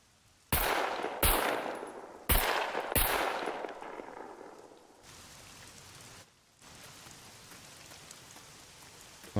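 Rain pours down in the survival video game SCUM, a dense hiss broken early by several sharp loud cracks like gunshots, then a steadier fainter downpour.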